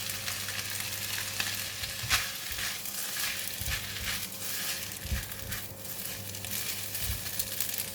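Rice pin noodles (Lou Shu Fun) fry in a pan with a moderate, continuous sizzle, and a few soft stirring scrapes and clatters break through it at intervals.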